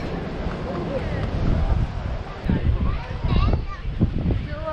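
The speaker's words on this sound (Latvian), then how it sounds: "Okeāns." Wind buffets the microphone on Morocco's Atlantic coast between Marrakech and Agadir, while ocean surf rolls in swelling, uneven surges. Voices speak over the gusty, close roar.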